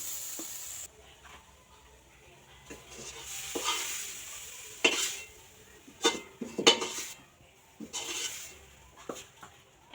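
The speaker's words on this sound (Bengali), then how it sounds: "এটা ভালোভাবে নাড়িয়ে এবার পুটটা কিন্তু তৈরি করব।" Caramel mixture stirred in a hot pan for a Bangladeshi pitha recipe, a quiet soft sizzle with scattered scraping strokes and light clinks of a utensil against the pan.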